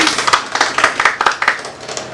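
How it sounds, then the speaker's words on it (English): Audience clapping at a live stream event, a small group giving sharp, close, fairly loud claps in a brisk uneven patter that tapers slightly toward the end. "A round of applause for that, please."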